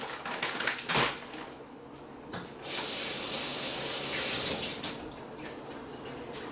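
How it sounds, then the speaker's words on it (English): Water runs from a kitchen tap in a steady, fairly quiet hiss, with a few bumps and clinks at the start before the flow settles in. "I'll actually add a little bit of water just to fill it to the top"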